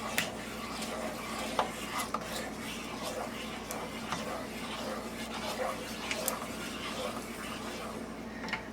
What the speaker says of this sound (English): You're also going to add your half of a cup of half and half, and just kind of stir that in.